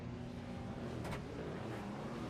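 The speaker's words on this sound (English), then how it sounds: "Shouldn't have turned my car on so soon." Steady engine drone from a BMW GT3 race car idling on the grid in a racing video game, a continuous close hum held for the whole stretch with a brief rise in the middle.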